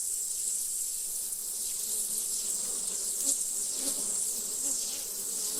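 Honey bees buzz in a dense, steady drone from an open hive being inspected, a colony suffering heavy unexpected losses, the hum continuous and close with no voices.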